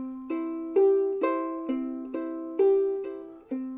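Ukulele chords played with thumb picks and finger pinches at an old-time song jam, a steady pattern of bright plucked attacks roughly every half second, each ringing and decaying, close and clear with no talk.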